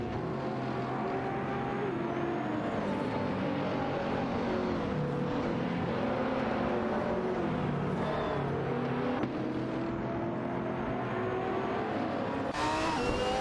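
Racing car engines from a Lamborghini Huracan GT3 and an Audi in a race, a continuous loud whining drone with shifting pitch as the cars rev, accelerate and run close together throughout.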